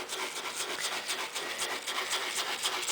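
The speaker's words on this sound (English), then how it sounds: "What you'd want to do is start rubbing it in very vigorously." Steady vigorous rubbing of Amodex stain remover into Sharpie-marked fabric, a close, continuous scratchy back-and-forth friction with a rhythmic pulse and no voices.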